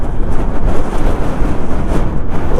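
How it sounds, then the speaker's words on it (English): Strong wind buffets the microphone at an exposed reservoir by a dam wall, a loud, continuous roaring rumble with no voices. "Bloody hell, it's windy."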